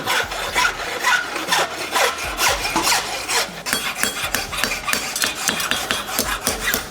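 A farrier works a rasp across a horse's hoof while top dressing the foot, giving steady, loud, close rasping strokes in a quick repeating rhythm that runs through the whole stretch with no talk.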